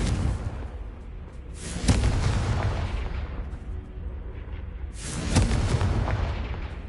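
Confringo explosion spells in a Harry Potter video game go off twice, each a loud booming blast with a crackling tail, the second at about five seconds, over a low rumbling background.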